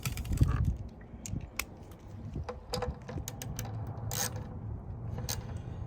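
Bolts are snugged down with a ratchet while replacing tub bearings on an LG front-load washer, producing a run of close clicking and ratcheting with light metallic knocks over a low background, no talk.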